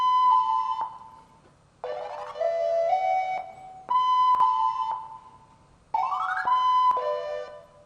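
Pitched-up flute loop treated with halftime, loop-operator stutter and washy reverb, made for a Spanish guitar-style sample: sustained wavering tones in phrases of about two seconds, sliding between pitches, with abrupt cuts and no voice.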